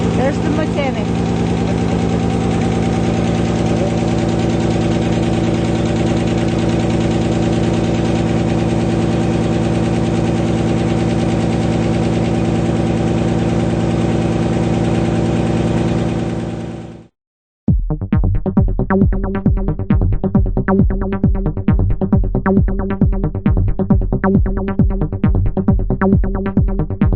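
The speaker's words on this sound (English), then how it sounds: "And the engine started up. It's all back together." A 1994 Nissan Quest engine idles after a timing belt replacement, a loud steady hum for about seventeen seconds, then a brief cut and a closer, rhythmic pulsing idle with a light ticking.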